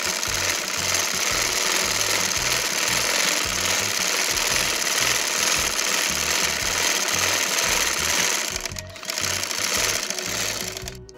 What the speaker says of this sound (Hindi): ऊपर सिलाई लगा लेती हूँ। इस सिलाई को भी हम डबल कर लेंगे।